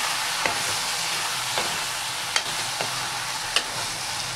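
Chicken curry with potato and squash frying in a pan gives a steady close sizzle, with a few soft, separate stirring scrapes of a spoon spaced through it and no voices.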